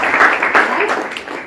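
An audience at an OK Life Care training session in Kaimur, Bihar bursts into loud, close clapping that keeps an even, dense patter for the full moment, with no voices on top.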